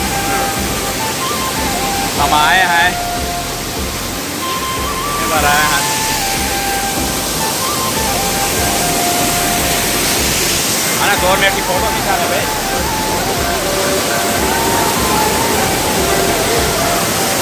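A waterfall near a hillside temple in Gariyaband, India roars steadily and loudly throughout, a constant rushing wash of water, while people talk over it.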